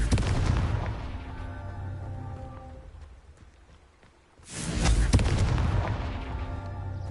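Booming blasting-spell explosions from the Hogwarts Legacy video game, two heavy bursts with a rumbling decay and a brief lull between them, loud and close.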